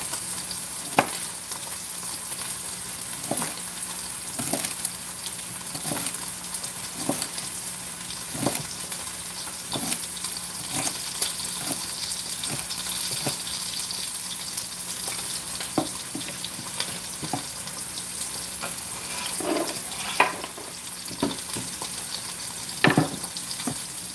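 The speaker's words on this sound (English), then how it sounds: "We're going to brown the meat on all sides in that oil." Pork roast browning in oil in a pot over moderate heat, a steady close sizzle punctuated by regular ticks and pops of spattering fat, with no voices.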